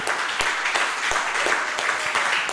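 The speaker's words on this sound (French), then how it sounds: "Applaudissons Jésus-Christ." A church congregation applauds during a sermon, dense rapid clapping that holds steady and fairly loud for a couple of seconds, with a few sharper individual claps standing out.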